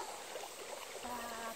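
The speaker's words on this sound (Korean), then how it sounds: "물 좀 보세요. 물소리 들리나요?" A clear mountain valley stream flows over rocks in a steady, close trickling wash, with a faint tone near the end and no talking.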